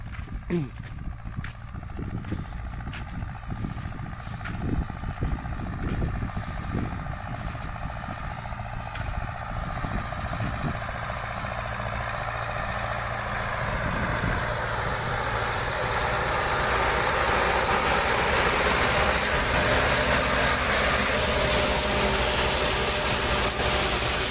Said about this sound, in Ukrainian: МТЗ-82 работає.